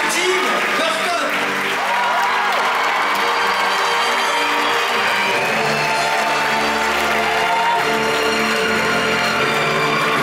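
Audience applause and cheering for Tim Burton and Eva Green at a Dumbo film premiere, sustained dense clapping from a large crowd with scattered whoops, and an announcer's voice carrying over it.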